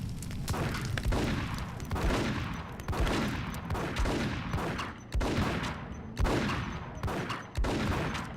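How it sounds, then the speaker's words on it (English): Desert Eagle pistol fire in the video game Max Payne, loud heavy booming shots in a dense repeating barrage, roughly one every second or so, each with a long rumbling tail. "I fucking headshot her twice with a deagle"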